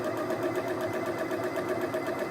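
A domestic sewing machine stitching a hem, its steady rapid needle whir running close and continuous with no speech.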